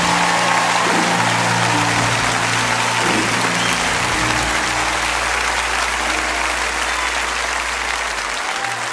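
Church congregation clapping loudly and steadily throughout a Sunday morning service, a dense sustained wall of applause with crowd noise and organ-like tones underneath.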